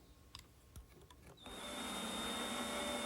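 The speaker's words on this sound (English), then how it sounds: "I'll remove the bulk of material freehand using my router and a straight cutting bit" A router fitted with a straight cutting bit spins up and cuts a hinge mortise freehand in wood, a loud sustained high whine starting abruptly after a few soft clicks and handling knocks.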